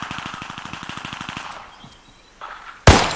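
Rapid automatic gunfire in the World War II Pacific battle game Warzone Pacific, a steady burst of about twenty evenly spaced shots, then a lull and a sudden loud blast near the end.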